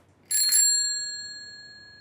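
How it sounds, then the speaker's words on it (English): A single bright bicycle bell ring, sharp at the start, then a clear metallic tone that fades slowly over a couple of seconds. "The ring bell works when you push this lever here and it moves parts inside the case."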